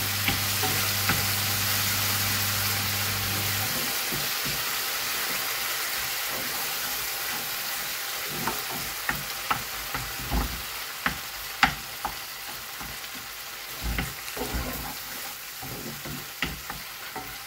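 Tomatoes frying for chicken karahi hiss steadily in a hot pan, joined after a few seconds by a string of irregular spoon scrapes and taps as they are stirred, close and fairly loud, with no voices.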